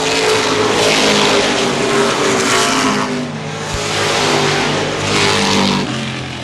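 Late model stock cars racing at Baer Field Speedway, a dense roar of engines swelling and fading as the pack passes, loud and continuous with no speech.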